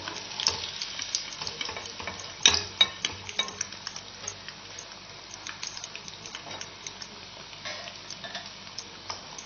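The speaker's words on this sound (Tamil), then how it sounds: "இது மாதிரி எல்லா வாழைக்காயும் ஃப்ரை பண்ணி எடுத்துக்கிடலாம்" Raw plantain slices frying in hot oil, a steady close sizzle scattered with crisp pops and crackles that flare up now and then, with no talking.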